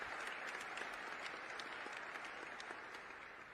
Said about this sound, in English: They are clapping for us right now.